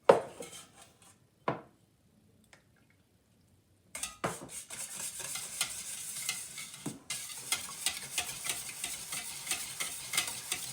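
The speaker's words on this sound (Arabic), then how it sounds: "j'ai mélangé les œufs, le lait, l'huile et le sel" Eggs, milk, oil and salt whisked together in a bowl for Turkish borek, a brisk steady stirring and clinking that starts after a few faint knocks and runs close and continuous, no voices.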